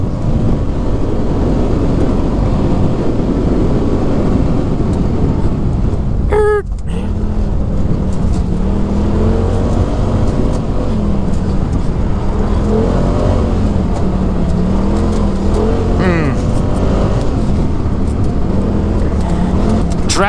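A 2018 Polaris RZR XP Turbo UTV with Dynamix suspension on 32-inch BFG KM3 tires roars steadily along a snowy trail, its engine drone loud and continuous, with a brief high whine partway through.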